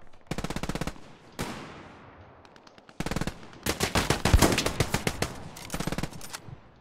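An MG34 machine gun fires in the video game Hell Let Loose in several long, rapid bursts at close range, with short pauses and one echoing tail between them, and no voices.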